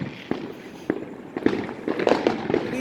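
Fourth of July fireworks in San Bernardino crack and pop at a moderate distance: scattered single bangs at first, then a denser run of overlapping crackles and booms toward the end.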